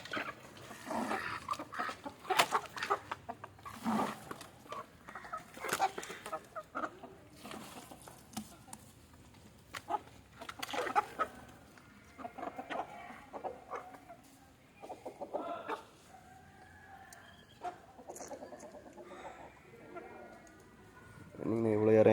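Native chickens cluck and call close by, with frequent bursts of clucking and a louder squawk at the end; a person speaks at times.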